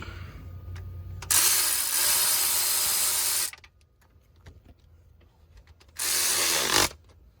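A ratchet tightens the engine cover bolts during a Gen V LT cam install, giving two bursts of close, loud, rapid clicking, one lasting about two seconds and a shorter one near the end, with quiet handling noise in the pause.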